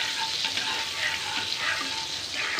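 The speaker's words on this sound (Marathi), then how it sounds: "हे बटर छान आता मेल्ट होतं आहे बटर आणि तेल मिक्स करायचं" Butter melting into oil in a pan before tandoori chicken legs go in, giving a close, continuous bright sizzle with faint stirring, no voices.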